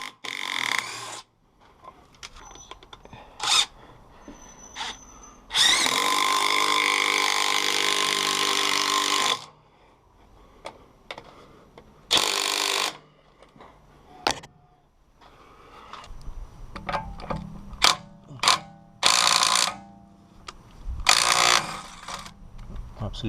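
A DeWalt 18V XR brushless DCF922N impact driver hammering in concrete screws in loud rattling bursts, one long run and several shorter ones, separated by quiet pauses and faint handling noises.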